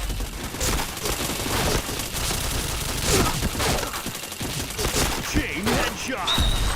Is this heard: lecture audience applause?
no